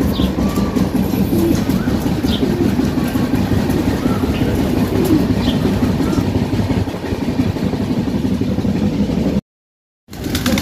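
A passenger train rolls along its rails, producing a loud, continuous close-up rumble and rattle that runs nearly unbroken, with faint bird calls mixed in before a sudden cut to silence.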